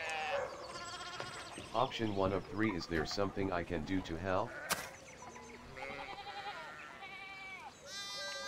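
Sheep bleat repeatedly in the medieval-village game Pentiment, the wavering cries loud and close over a few seconds. Soft game music and a narrating voice follow.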